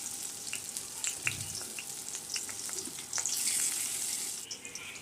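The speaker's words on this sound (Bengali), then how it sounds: "পেঁয়াজটা হালকা আমি ভেজে নিয়েছি।" Chopped onion fries in oil, giving a close, steady sizzle with scattered small crackles and a short surge of louder hissing toward the end, and no voices.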